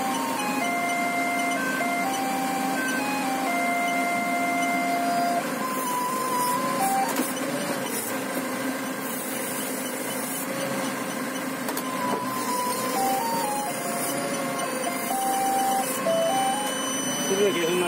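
Forklift rear proximity sensor sounding a series of high electronic beeps that repeat faster as an object comes closer, heard over steady engine rumble with someone speaking throughout.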